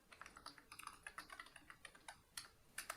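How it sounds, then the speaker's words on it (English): Quick, light keystrokes clatter on a computer keyboard in a steady burst, close and fairly quiet, with no talking. "I type Los Angeles business."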